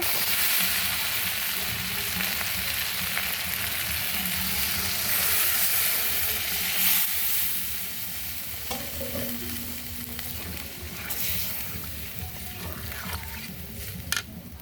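Spiced meat sizzling loudly in a pan as water is poured in, a dense hissing fry that eases into a quieter bubbling simmer with a few stirring clinks, close by and without talk.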